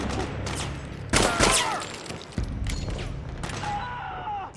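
Gunfire bursts in the video game Metal Gear Solid 4, with a loud volley near the start and sharper shots later, layered over a low rumbling game soundscape and faint tonal effects.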